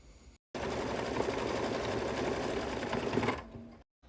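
An embroidery machine stitches a beach potato fabric appliqué down onto a bag in the hoop, producing a loud, continuous rapid needle whir for about three seconds, preceded and followed by brief quiet.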